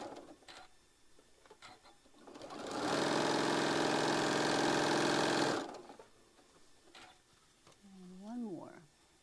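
A sewing machine puts in a few anchoring stitches on a quilt block, a loud, steady whir of about three seconds with quiet talking before and after it.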